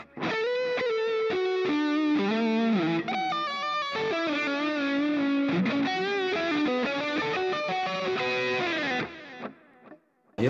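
Electric guitar lead tone through a Mooer GE200 multi-effects unit with reverb, playing a sustained, melodic solo line of bent and held notes, loud and continuous for about nine seconds before trailing off.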